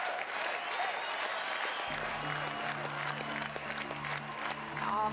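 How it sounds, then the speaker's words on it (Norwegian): A ballroom crowd bursts into applause after a paso doble dance, loud sustained clapping filling the space, with a faint voice and some background music underneath. "En stor applaus til Lars og Alexandra."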